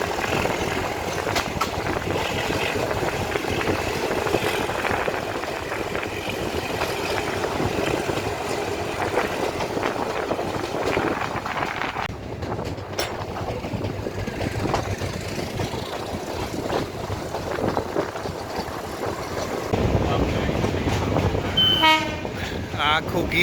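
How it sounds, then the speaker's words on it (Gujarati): A meter gauge train running through the dense Gir forest between Junagadh and Sasan Gir, its steady rumble and rattling wheels filling the whole stretch, with brief horn-like tones near the end and faint voices underneath. "હવે ટ્રેન ગીરના જંગલમાં આવી ગઈ છે અંદર."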